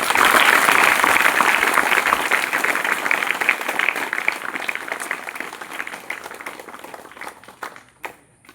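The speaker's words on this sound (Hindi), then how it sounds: "एक ताली तो बजा दीजिए" An audience at a school event claps loudly in a sustained burst that gradually tapers off and fades over several seconds.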